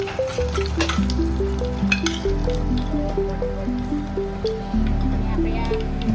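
Spices including asafoetida and turmeric, added with cumin seeds, curry leaves and cinnamon, sizzle steadily in hot oil, a continuous close frying hiss with faint crackles, while music plays underneath.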